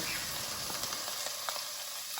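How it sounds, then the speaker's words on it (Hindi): Sliced onions fry in a pan for a kofta masala, giving a steady, close hiss and sizzle with small pops and faint stirring scrapes throughout, and no talking. "तो हमने प्याज डाल दिए"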